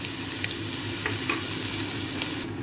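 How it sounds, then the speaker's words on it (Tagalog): Onions sauté in a pan with a soft, steady sizzle, broken by a few faint clinks and scrapes from stirring. "ginigisa na natin ang ating sibuyas."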